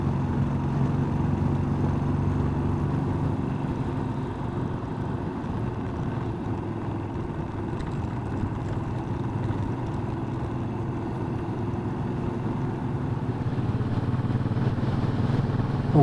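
A Bullet 500 motorcycle climbing uphill toward the top of the Lecht in fifth gear, a steady low engine drone mixed with wind rush, constant and fairly loud throughout with no speech.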